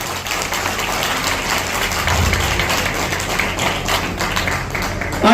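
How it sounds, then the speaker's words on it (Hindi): Audience applause fills the hall to welcome Haryana cabinet minister Vipul Goyal as chief guest at a matrimonial introduction booklet release, a dense, even patter of many hands clapping continuously. "जोरदार तालियों से स्वागत।"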